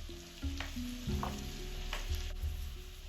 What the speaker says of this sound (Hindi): आप इसमें गार्लिक, कटा हुआ गार्लिक डाल दीजिए। 1-2 मिनट पका लीजिए इसे।